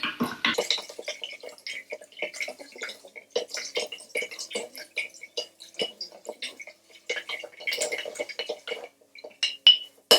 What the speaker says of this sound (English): So, get your spoon. We'll give that a stir.